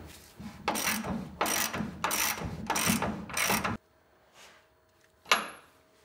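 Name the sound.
ratchet torquing down Ford Bronco leaf spring shackles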